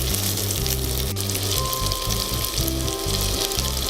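Tandoori salmon kebab skewers fry in butter in a pan, a steady, close sizzle with a fairly even hiss that runs through the whole stretch and carries some lower bubbling underneath.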